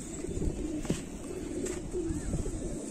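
Kamagar pigeons coo softly in a loft, low murmuring calls repeating over a steady background hum with a few light knocks, fairly faint and a little distant.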